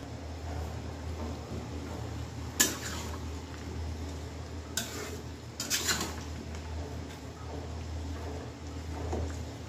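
Lentils and rice for khichuri being stirred in a cooking pot, with a few sharp clinks of a spoon against the pot over a low steady background, close and moderately quiet.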